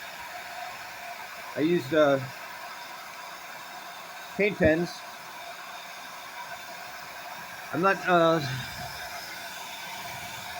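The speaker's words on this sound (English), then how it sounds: "This isn't the only hairdryer that that'll keep balls aloft indefinitely." A hair dryer blows continuously to hold a ball aloft, a steady whooshing hiss that runs under the whole stretch while a person talks in three short bursts.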